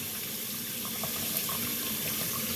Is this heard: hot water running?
yes